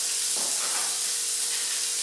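Cooked mushrooms go into a hot sausage and bacon casserole with a steady, bright sizzle and hiss, a soft splash as they land, and no talk.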